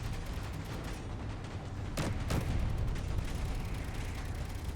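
Gatling turrets fire in the video game Space Engineers amid a dense, noisy rumble of gunfire, with two sharp loud bursts standing out near the middle.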